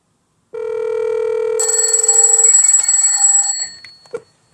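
A rotary telephone's bell rings loud and close, a steady electronic tone joined by a harsher, brighter ring for about two seconds before cutting off, followed by a few faint clicks.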